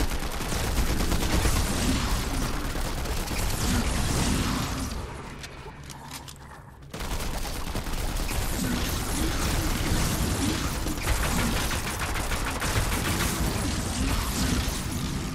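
Dense, sustained gunfire in an escape room video game, with rapid shots and booms filling the scene almost without a break except for a short lull midway.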